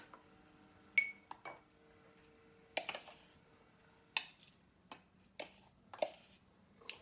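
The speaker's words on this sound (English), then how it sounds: "And then we can just spoon in our seasoning." Homemade taco seasoning is spooned into a glass jar, giving quiet scattered clinks and taps of a spoon against glass, spaced a second or so apart in an otherwise hushed room.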